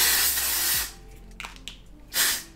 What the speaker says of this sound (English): I'm also gonna pop a little bit of this texturizing hairspray